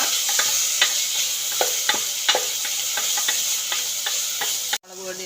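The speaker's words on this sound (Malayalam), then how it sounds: "തക്കാളി ഇടുന്നതാണ്. പിന്നെ പച്ചമണം മാറുന്നവരെ ഒന്ന് ഇളക്കുക." Tomato being stirred in a hot pan for chicken biryani, with a steady close sizzle and regular scraping clicks from the spoon, until the sound cuts off abruptly near the end.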